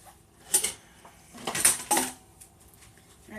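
Metal clatter of a tray of freshly baked cupcakes being pulled from an oven, a few sharp clinks and scrapes in quick succession, close and moderately loud, with no voices.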